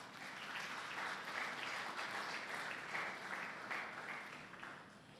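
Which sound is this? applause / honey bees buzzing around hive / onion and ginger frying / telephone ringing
applause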